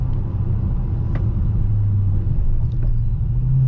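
2020 Dodge Challenger Scat Pack Widebody merging onto a freeway with the sunroof cracked open: steady loud engine rumble and road noise from inside the cabin, holding a low drone throughout.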